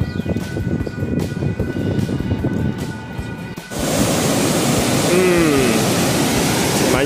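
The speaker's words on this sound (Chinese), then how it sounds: "阶梯状瀑布" A tiered waterfall beside County Road 169 in the Alishan mountains rushes in a steady broadband wash of falling water, growing noticeably louder and fuller partway through, continuous and close with no distinct voices.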